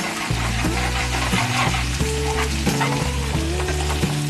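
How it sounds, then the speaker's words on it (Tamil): Ginger and garlic sautéing in a pan over medium flame, a dense continuous sizzle with repeated stirring scrapes, close and fairly loud, alone without talk. "இஞ்சி பூண்டு வதக்கும்போது அடி பிடிக்க ஆரம்பிக்கும்"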